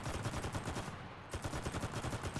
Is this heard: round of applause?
no